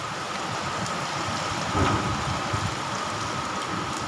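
Heavy rain pours down in a dense, continuous hiss, swelling slightly partway through, with no talking.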